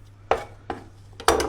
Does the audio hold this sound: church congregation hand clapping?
no